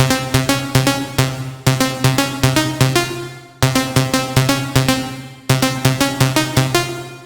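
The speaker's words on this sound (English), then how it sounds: "Lead Expert is the typical Future Rave sound." Lead Expert, a typical Future Rave synth lead from a sample pack, plays a fast rhythmic sequence of bright plucky notes in repeating phrases with short gaps between them, loud and alone.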